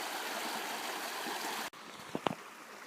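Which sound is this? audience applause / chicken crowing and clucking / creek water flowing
creek water flowing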